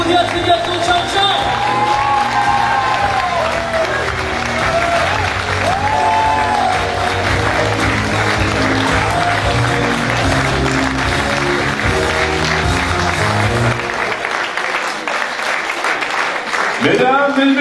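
A cabaret audience applauds performer Gilles Marino after his act, steady loud clapping with some cheering filling most of the stretch, while a host's voice speaks over it before the noise drops away near the end.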